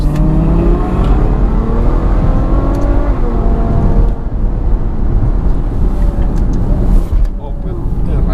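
A Ferrari GTC4 Lusso V12 engine roars loudly and continuously, revving with rising and falling pitch, with a deep exhaust rumble throughout and talking in the background.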